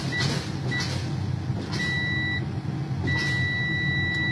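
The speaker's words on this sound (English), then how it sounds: "my low air pressure alarm is going off" A truck's low air pressure warning alarm sounds in the cab as two steady electronic tones, each lasting about half a second to over a second, over a continuous engine and cab hum.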